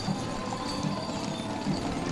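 Horses' hooves clip-clop along the route of a holiday festival-of-lights parade, a steady busy clatter of many steps mixed into crowd and street noise throughout.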